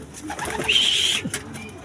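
A homing racing pigeon back at its loft after a 166 km race from Aritao gives a single short call, close and fairly clear over faint background noise.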